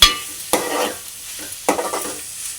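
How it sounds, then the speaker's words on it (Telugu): Mutton liver curry is stirred gently in a pan, with two distinct scraping strokes over a soft, continuous sizzle heard up close. "నేను ఎలా కలుపుతున్నాను అలా లైట్గా కలుపుకోవాలండి"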